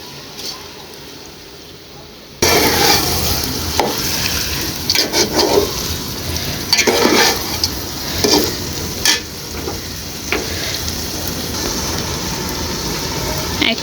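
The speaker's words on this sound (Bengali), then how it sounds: "এটার সাথে এখন আমি চাল ডাল দিয়ে দিব এখন" Rice and lentils hit a hot frying pan for khichuri and are stirred, bringing a sudden loud sizzle that settles into steady frying crackle with scraping spoon strokes, after a quieter opening.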